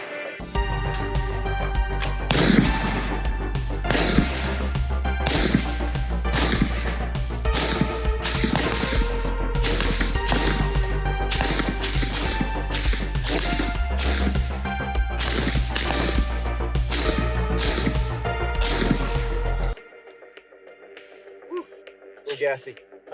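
Suppressed rifle fired during shooting drills, a steady string of sharp, closely spaced reports that go on for about twenty seconds and then stop, leaving quieter sounds.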